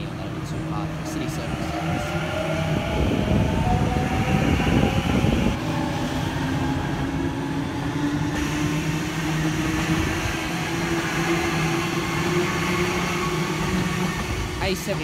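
Sydney Trains set departing platform 2 at Revesby station, a loud rumbling roll with a rising motor whine gathering speed, with a person talking briefly over it.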